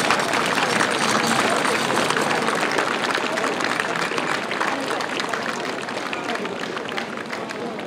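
Spectators clap in a dense, continuous wash of applause at an outdoor horse-drawn carriage competition in Lubostroń, holding loud and even throughout with a slight easing toward the end.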